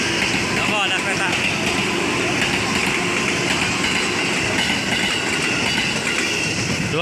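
A train rumbles past with rhythmic clattering of wheels on rails, loud and steady throughout, with a few squealing tones over the noise, in a video game.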